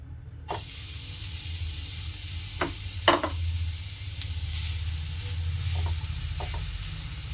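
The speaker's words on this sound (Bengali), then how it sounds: "ঘি গরম হয়ে গেছে, এখন কোরানো গাজরটা দিয়ে দিচ্ছি।" Grated carrot frying in hot ghee gives a steady sizzle throughout, with a few brief stirring scrapes near the start and middle; close and even, no voices.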